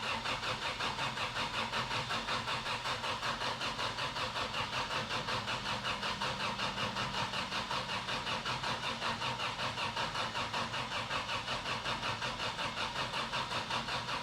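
A turbo-swapped project car's engine is being started, a steady rapid pulsing churn like a starter cranking that runs unbroken throughout, close and fairly quiet, with no voices.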